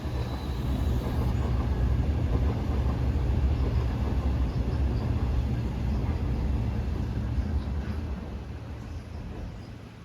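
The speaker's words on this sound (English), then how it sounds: "filmed another train on the crossing over the River Dart." A South Devon Railway heritage train crosses the bridge over the River Dart with a broad, steady low rumble, heard from a distance, holding for several seconds before easing off slightly toward the end.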